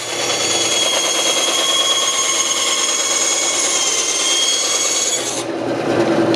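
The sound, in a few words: hand sanding a wooden toy car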